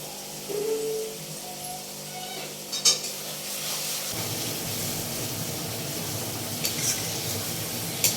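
Chicken cooking in a home kitchen pan, with a continuous sizzle and scraping stirring, a few sharp clinks of a utensil against the pan, and the frying growing denser and louder partway through.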